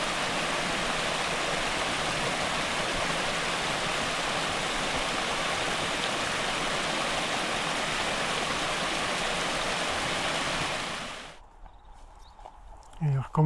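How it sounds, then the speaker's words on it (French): A rushing mountain torrent in high flow after heavy rain, a loud, dense roar of water that holds steady for about eleven seconds before cutting off abruptly into near quiet. "le bruit impressionnant du torrent remonte jusqu'à nous et le débit semble énorme."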